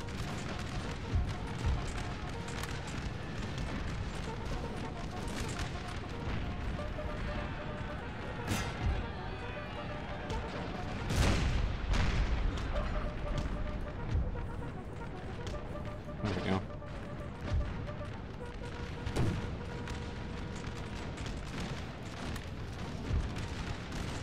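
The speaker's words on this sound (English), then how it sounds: "five cannons, like five guns, literally shooting canister rounds at them in the back" Artillery in Napoleon: Total War, five cannons firing canister rounds on a battlefield, sharp booms breaking through the dense, continuous roar of battle noise with speech heard throughout.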